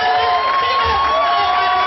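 A large crowd shouts and cheers continuously, loud and close, with voices blending into one sustained roar.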